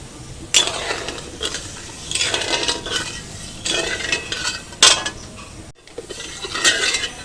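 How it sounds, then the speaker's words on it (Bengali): Warm dough for langcha sweets being kneaded by hand in a kitchen, a steady run of soft pressing, squishing and scraping strokes with occasional light clinks of a bowl, close and fairly loud, without talk. "ডোটা এখন অল্প গরম আছে, একটু ভালো করে মেখে নিচ্ছি।"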